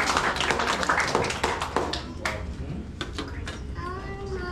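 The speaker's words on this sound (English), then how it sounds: "give them a hearty clap for me" At a graduation party, a crowd claps for the graduate's parents with dense, close applause that thins out, with a voice and faint chatter underneath.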